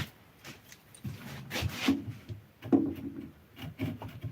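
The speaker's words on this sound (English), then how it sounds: "piece of sandpaper from a orbital sander and then kind of bring it through and sand the inside out" Orbital-sander sandpaper drawn back and forth inside an axe kerf, a close, uneven rhythm of dry wooden rasping strokes.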